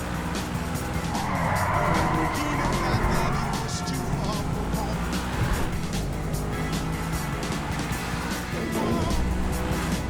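Car engine and skidding tires in a first-person driving video game level, a steady loud engine drone with squealing skids throughout, ending in a short screech.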